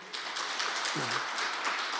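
Congregation applauding at a church anniversary Sunday afternoon service, steady dense clapping from many hands throughout, with a brief voice in the middle.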